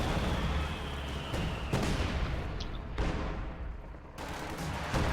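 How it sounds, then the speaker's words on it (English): Sustained gunfire from a close air support strafing run in the strategy game Company of Heroes 2, a dense, loud rattle of shots and blasts with a few sharper bursts across the battlefield and no talk. "Close air support from KilrathiSoldier. Looks like the strafing run."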